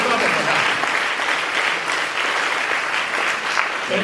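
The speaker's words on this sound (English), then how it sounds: "yeah, you can clap for that." A crowd applauds steadily, a dense wash of many hands clapping at close range, holding an even level throughout.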